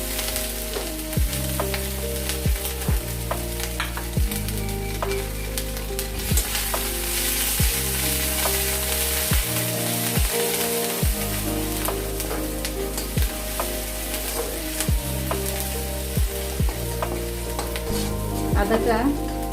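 Ginger fries in hot oil with dried red chilies, cumin seeds and a pinch of sugar, a steady bright sizzle throughout with occasional stirring scrapes, under quiet background music and no talk.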